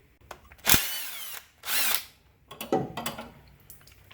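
A power tool tightens a brake hose banjo bolt on a Dodge Dakota caliper: two sharp whirring bursts of the drive, followed by clanks and rattles of tools and metal parts, close by and with no talk.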